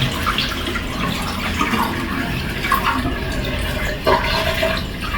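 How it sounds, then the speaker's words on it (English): Water sprays and splashes over rice being given its final wash, a continuous close gushing and swishing. "This is the last wash. Yes. Get the water spray now."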